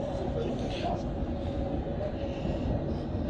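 London Underground Circle Line train in motion, a dense, loud, continuous rumble and roar that stays steady throughout.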